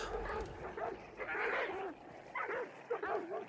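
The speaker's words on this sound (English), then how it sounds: "You have dogs barking violently when you come near their kennel." Dogs bark and yip in short bursts at a moderate distance near their kennel in the video game Hunt: Showdown, with some whining between the barks.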